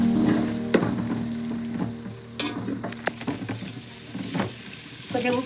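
Tomato pieces frying in a pan, a hissing sizzle broken by scraping stirs and occasional sharp clinks of a utensil against the pan, close by and fairly loud.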